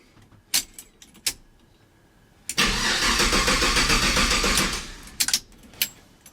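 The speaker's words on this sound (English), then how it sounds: "I ain't really sure what's going on here, but it's cranking over." An LS-swapped Chevrolet squarebody truck engine cranks over in one loud burst of about two seconds on a weak battery, framed by clicks and jangling keys before and after.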